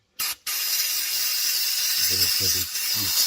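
Brake clean degreaser sprayed onto a Saab 9-3 oil filter housing: a brief hiss, a pause, then a long steady spray with a voice speaking over its latter part.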